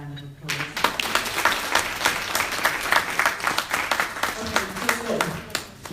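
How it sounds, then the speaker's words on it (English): Audience at a forum on African, Afro-Caribbean and Asian women in politics breaks into a sustained round of applause, dense clapping from a room-sized crowd that swells quickly and carries steadily to the end, with a brief voice just before it starts. "I think she deserves a round of applause."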